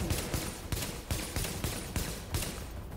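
Gunfire in The Division shooter game rattles in rapid, repeated bursts, loud and close, with shots spaced about every few tenths of a second.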